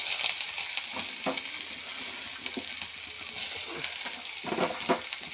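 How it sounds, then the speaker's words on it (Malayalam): Breadfruit fries in oil in a pan, a steady, close crackling sizzle with irregular knocks and scrapes of stirring through it. "ഒരു പാനടുപ്പിൽ വെച്ചു, എണ്ണ ഒഴിച്ചു. അതിലേക്ക് നമുക്ക് ചീമച്ചക്ക വാരിയിടാം."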